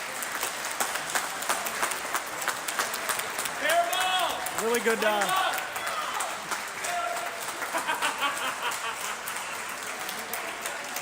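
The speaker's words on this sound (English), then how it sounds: "You can hear the round of applause for Dan as he checks in" Crowd applause at a college dodgeball nationals match as an injured player checks in, a steady patter of clapping in a large hall with cheers, shoe squeaks and a commentator talking over it.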